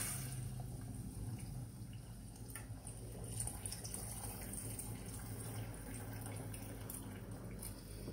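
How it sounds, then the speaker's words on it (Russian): Boiled beef broth with meat pours steadily from a pot in a home kitchen. The liquid runs in one continuous splashing stream for the whole stretch, close and fairly soft, and no one talks over it. "А сейчас мы с вами нальем уже отваренный бульон. Бульон с мясом говядины."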